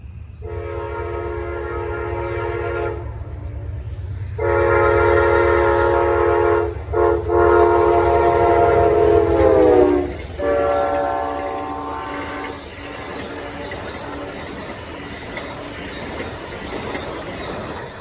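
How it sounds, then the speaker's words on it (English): An eastbound Amtrak P125-26 passenger train, led by P42DC number 74, passes a CSX coal train at Lee Hall, Virginia. Several loud, close horn blasts ring over a steady rolling rumble of rail cars. "That was Amtrak P125-26 and a coal train."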